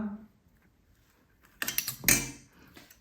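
A small metal spoon scrapes and clinks against a whole brinjal and a dish while spiced masala is pressed into it, a couple of brief close scraping bursts after a quiet start.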